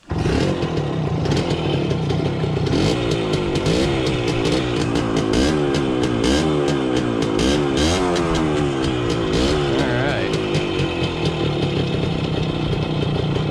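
A Bridgestone TMX 100 motorcycle engine sputters to life on choke and revs repeatedly, pitch rising and falling in bursts, loud and close throughout.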